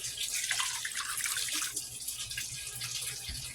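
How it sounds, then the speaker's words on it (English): Hot water is poured from a coffee cup into a pan, a continuous splashing, trickling stream that runs steadily for a few seconds without speech. "we're gonna get this pan here filled up with 2 cups hot water"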